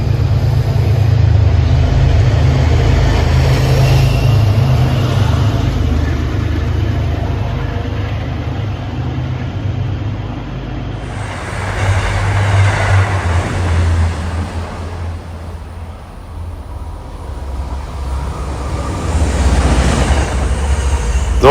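Loud, close rumble of MBTA MPI HSP46 diesel locomotives hauling a long commuter train near Ruggles, a steady heavy drone with rail noise swelling and easing throughout, no talk.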